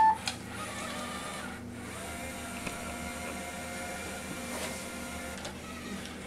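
The small motors of a Parallax Scribbler S2 robot run with a steady electric whir and hum, close by, with a few faint clicks and no talk.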